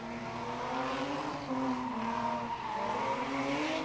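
Drift car at a test-and-tune session sliding through a run, its loud engine roaring with wavering harmonic pitch as tires squeal continuously, close and sustained without pause, with no voices.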